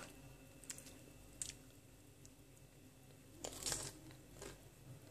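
Someone eats a fruit cracker snack, with faint close crunches and squishy chewing bites that come in a few bursts against quiet background, and no talk.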